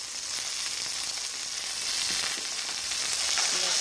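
Fried rice with kosher salt sizzles steadily in a hot pan while being stirred, a dense continuous frying hiss heard close up with faint scraping, no voices.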